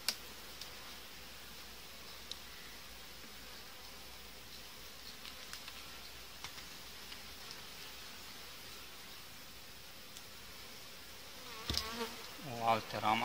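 Honey bees buzz around hive frames during an August colony inspection, a steady dense hum throughout, with brief handling knocks and rustles near the end.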